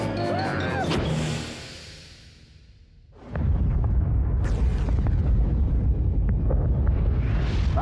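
A cartoon spaceship blows up in a self-destruct, a crash and rising whoosh giving way to a loud, sustained roaring explosion that fills the rest of the clip.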